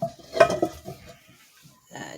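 Small cast iron pans handled in a kitchen full of cookware, giving a few sharp metallic clanks near the start, a quieter knock or two, then a softer scrape at the end with pauses between.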